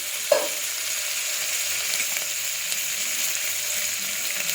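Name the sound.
garam masala and ginger frying in a pan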